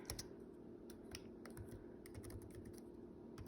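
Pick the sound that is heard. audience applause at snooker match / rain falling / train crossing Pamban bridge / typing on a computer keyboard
typing on a computer keyboard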